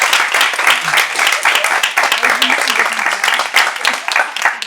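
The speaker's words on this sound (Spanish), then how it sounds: "un fuerte aplauso a todos los amigos." Audience applause at the grand final of BP Barcelona 2021: loud, dense clapping from a crowd, sustained without pause, with voices mixed in underneath.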